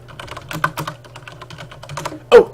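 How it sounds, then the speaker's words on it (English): Fast, crisp clicking of keys on a Logitech G710+ mechanical computer keyboard, typed close up in quick irregular bursts over a faint low hum, ending with a louder clack. "I got a new keyboard."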